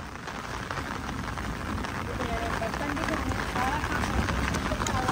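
Heavy rain pours down on a village in Punjab, a loud, dense and unbroken hiss of drops striking surfaces close by.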